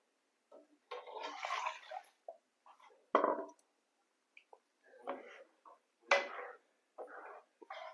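Water is poured into a freshly rinsed mixer grinder jar while making a chapati side dish, in several short splashing bursts separated by pauses, close by and fairly quiet with no talking.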